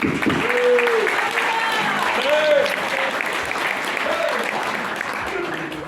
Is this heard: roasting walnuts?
no